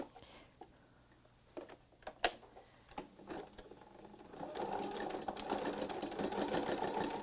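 A sewing machine sews a straight stitch on fabric, starting with a few scattered ticks and taps and then settling into a steady, quiet, fast mechanical patter.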